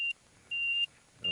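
A motorbike indicator warning bleeper with delayed action gives three steady high-pitched electronic beeps, the middle one longer, separated by short pauses and heard alone with no talking.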